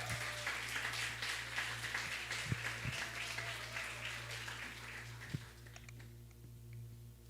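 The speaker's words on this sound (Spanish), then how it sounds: "les invito a que les demos un aplauso" Church congregation applauding during a Spanish-language service, a steady, dense wash of clapping from a large room that holds throughout and thins slightly toward the end, with a low hum underneath.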